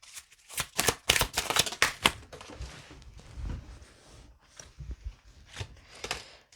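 Oracle cards are riffled and shuffled in a quick run of crisp, papery bursts. They come loud and close at the start, then grow sparser and softer.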